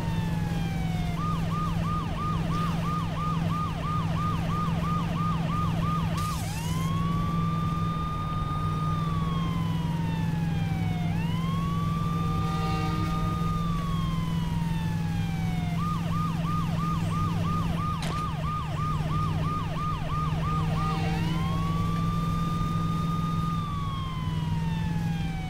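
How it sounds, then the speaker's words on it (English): A police-style emergency vehicle siren in Saints Row 2 blares continuously, cycling between a rapid yelp and long rising-and-falling wails, loud and close over a steady engine drone, with no speech. "Responding to a code, so I gotta have my siren on."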